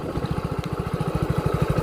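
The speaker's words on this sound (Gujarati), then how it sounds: "આ બાજુ આપણું બાઇક જાય" A motorcycle rides along toward a farm, its engine giving a steady low throbbing pulse, close and moderately loud, with no voices.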